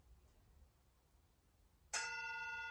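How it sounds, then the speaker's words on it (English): A gong struck once to close a yin yoga posture, a sudden bright strike after near silence that rings on with a sustained shimmering tone. "So when the gong goes"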